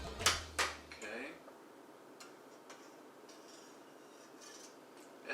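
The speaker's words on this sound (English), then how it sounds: "Just give it a shake, make sure nothing falls off in the pan." A baking pan of coffee cake topped with finely shredded crumbs is shaken, making two or three quick metallic rattles at the start, then faint light clinks and taps in a quiet kitchen.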